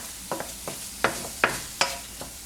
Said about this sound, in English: Mix the veggies with the eggs.